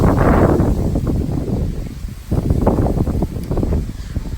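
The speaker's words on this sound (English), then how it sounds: "it's windy" Strong wind with gusts blows on a mountain trail near Duck Pass on the John Muir Trail, a loud, continuous buffeting roar across the microphone that swells and dips throughout.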